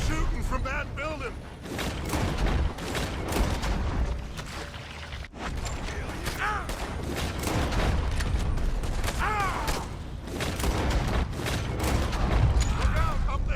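Dense, continuous video game gunfire from Red Dead Redemption 2 during a shootout with shooters in a building, rapid overlapping shots crackling without pause, mixed with game character voices shouting throughout.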